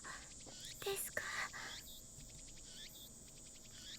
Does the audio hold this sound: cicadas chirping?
yes